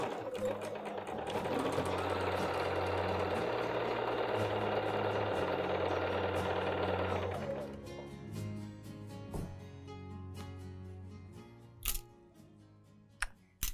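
A sewing machine stitches a fabric bowl cozy, its steady motor whir running loud and continuous for several seconds before stopping, followed by quieter handling clicks and a few sharp taps.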